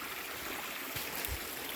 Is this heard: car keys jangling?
no